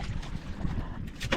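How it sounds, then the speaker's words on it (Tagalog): A small island boat's engine running with a rough, steady low rumble and rattle, heard close amid wind and water noise, without pauses. "Lagatak ang makina ni Ariel."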